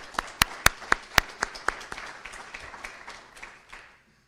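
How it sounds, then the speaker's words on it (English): Applause at an end-of-year workplace celebration: a few sharp, distinct claps ring out close by, then thin into softer scattered clapping that fades away. "Give yourself a round of applause."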